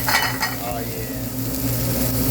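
Peppers and onions hit a hot stir-fry pan with a sharp sizzle that settles into a steady crackle, with light stirring and pan clatter close by.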